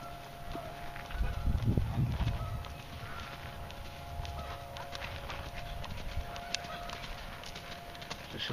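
A horse canters in an arena, its hoofbeats soft and rhythmic under steady background noise, with a brief louder stretch early on.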